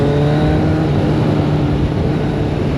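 Motorcycles riding with a cycling race peloton produce a loud, continuous engine drone and rumble, steady throughout and close, with no talk audible.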